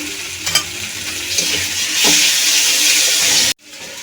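Ground spices and red green-chili paste stirred and frying in a pan over medium heat, a steady sizzle with scraping stir strokes that swells louder midway before stopping abruptly.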